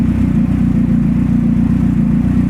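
An RD/RD2 motorcycle engine with a lumpy cam idles on E85 fuel through its stock ECU and injectors, a steady, loud, close low throb with a faint uneven lope throughout.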